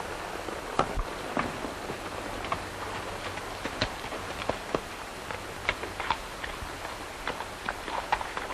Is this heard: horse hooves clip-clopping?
yes